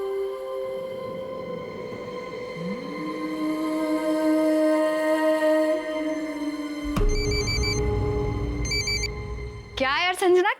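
A telephone rings in a Hindi crime drama scene, with two short bursts of trilling rings over a sustained musical drone and low rumble, followed by a brief rising tone.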